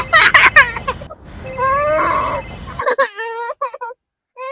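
A telephone rings in bursts of repeated electronic trills, loud and close, with people talking over and between the rings.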